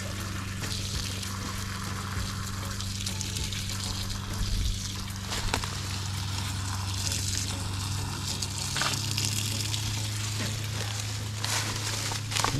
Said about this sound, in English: we can dump that tank down. So we'll open up the drains.